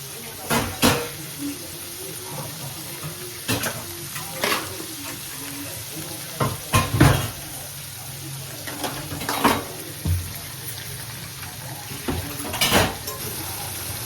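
Tomatoes sauté in a pan for rava upma, a steady soft sizzle running underneath while a spoon scrapes and knocks against the metal in irregular bursts, close up with no talking.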